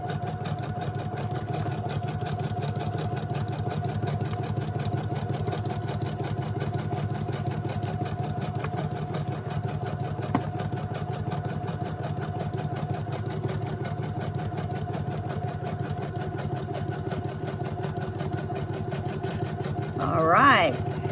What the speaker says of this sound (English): we're going to hem it down with a zigzag stitch